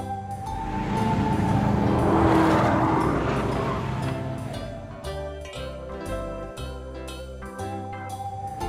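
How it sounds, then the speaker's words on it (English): A sports car revs and squeals its tires in a sustained, loud rush that swells and then fades, followed by choppier engine and skid sounds. "Blue. Sports car."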